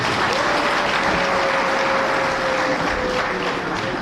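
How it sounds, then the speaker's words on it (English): An audience claps for a speaker at a gathering, dense sustained applause filling the whole stretch evenly and loudly, with a faint steady tone underneath and no cheering above it. "Let's give him a bigger clap."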